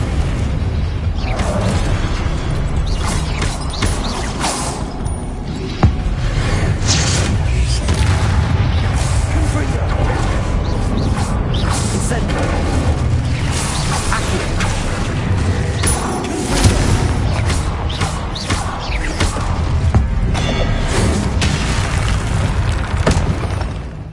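Confringo blasting-spell explosions from a Harry Potter video game: a dense, continuous run of loud booms and crashes with shattering debris, repeated blasts overlapping for the whole stretch, with a brief voice now and then.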